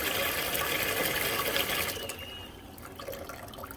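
Cold water runs from a tap into a small container beside a kitchen sink with a steady hiss and splash for about two seconds, then fades to a quieter trickle.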